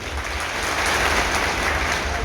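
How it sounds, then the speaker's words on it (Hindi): Audience at a heat stress safety training session claps loudly and continuously, a dense, even wash of applause with no voices. "जोर से ताली बजाएं।"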